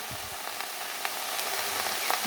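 Jute leaves frying in a pan with salt and turmeric give a steady, close sizzle with light crackles and occasional stirring scrapes, with no talking.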